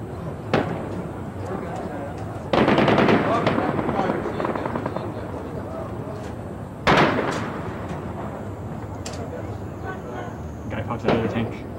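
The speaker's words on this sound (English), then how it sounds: "If I were to turn on the audio, you can hear gunfire in the background." Bursts of gunfire crack out at intervals, a sharp volley then scattered shots, with a busy background mix of noise and voices beneath.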